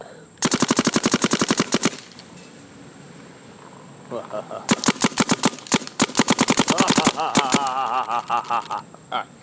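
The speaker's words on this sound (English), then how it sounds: "Having a Dark Trooper CS1 in my hands, I could not resist shooting it in the dark." A Planet Eclipse GEO CS1 paintball marker fires rapid, close, loud bursts of shots, one long string early and another after a pause. A faint high whine runs under the volleys.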